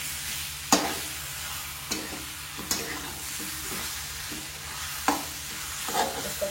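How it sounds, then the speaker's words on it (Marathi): Chopped tomato being stirred into chicken curry frying in a pan over a lowered gas flame: close scraping stir strokes at irregular intervals over a steady low sizzle. "आपण टमाटर टाकूया कापलेला, तो पण मिक्स करू।"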